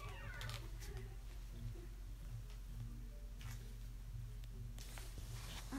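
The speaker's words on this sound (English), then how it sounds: "Sorry, that's my cat." A pet cat meows in a home during a casual vlog, a few short faint meows near the start and middle over a steady low hum.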